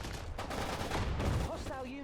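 Grenade blasts and bursts of gunfire from the Sudden Strike 4 war game, a dense rumbling volley of shots lasting a couple of seconds with a faint rising whistle near the end.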